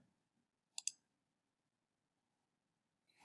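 A mouse click or two in Unity: a quick pair of sharp clicks close together, alone in near silence, with a faint rustle at the end.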